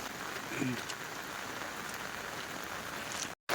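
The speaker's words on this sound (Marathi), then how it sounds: "पाऊस खूप पडायला लागलेला आहे" Heavy rain hisses steadily and densely on surfaces nearby in the Konkan region, a constant wash of drops, briefly cutting out near the end.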